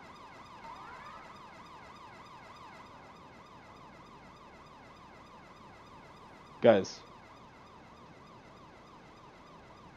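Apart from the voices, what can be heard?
emergency vehicle siren in video game EmergeNYC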